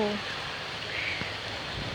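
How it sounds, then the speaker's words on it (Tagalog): Steady, dense hiss of heavy rain falling on surfaces in Calatrava, Negros Occidental, Philippines, continuous throughout, with a brief voice at the very start. "Ulan man kaayo."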